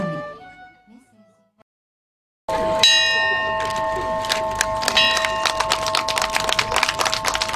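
A wedding bell rings out at an outdoor cosmos-field wedding in Engaru, loud and sustained with repeated bright strikes, following a short stretch of voices and then a brief silence.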